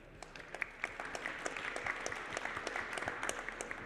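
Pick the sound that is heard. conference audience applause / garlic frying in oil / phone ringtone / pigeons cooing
conference audience applause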